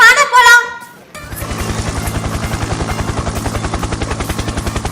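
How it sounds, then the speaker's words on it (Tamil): After a brief tonal sound, a remote-controlled toy helicopter's rotor starts up with a rapid, even chopping buzz that stays close and loud. "யாரோ ரிமோட் ஹெலிகாப்டர் ஓட்டிட்டு இருக்காங்கண்ணே"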